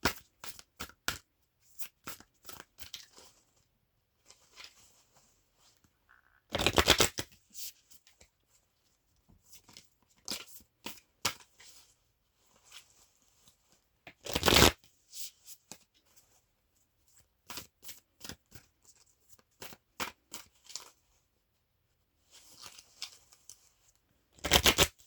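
Black Moon astrology cards being shuffled for a card pull, with soft riffling and sliding bursts across the clip and three louder, sharper shuffles standing out, no talk over them.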